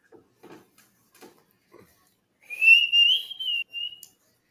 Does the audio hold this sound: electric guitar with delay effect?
no